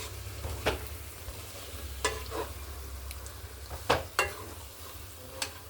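Gongura pickle paste fries in oil with a soft, steady sizzle, broken by a few sharp scraping stirs of a spoon against the pan, quiet and close with no talking.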